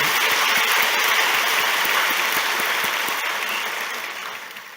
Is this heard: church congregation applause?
yes